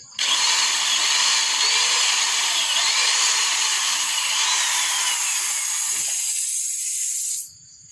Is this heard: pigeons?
no